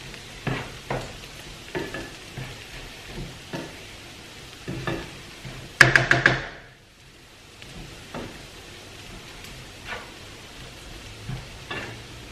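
Kefta meat mixture stirred and frying in a pan, a steady soft sizzle broken by regular scraping stirs, with a brief sharper clatter midway before the frying settles again.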